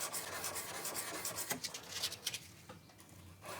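Fine-grit sandpaper rubbed by hand over a bushcraft knife blade gives a close, repetitive scratchy rasp in uneven strokes, alone without speech.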